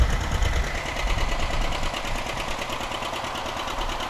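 A steady, rhythmic engine of an old tractor in a parade chugs continuously at close range, a low idling rumble with a faint mechanical knock running throughout.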